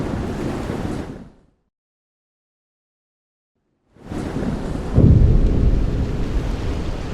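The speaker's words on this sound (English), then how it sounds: "the two held their ears to a loud boom of thunder." A loud rumbling thunder boom bursts in after a stretch of silence, heavy and close, then rolls on with a steady roaring wash like rain or surf.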